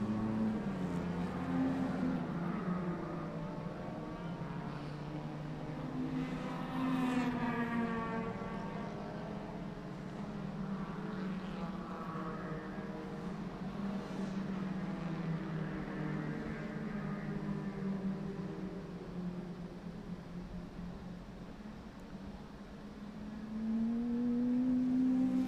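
A Renault Clio race car with a Mazda MX-5 close behind sweeps past at a historic racing festival, engines revving and shifting pitch as they pass, loud and near with no talk.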